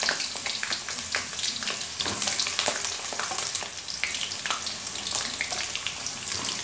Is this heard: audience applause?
no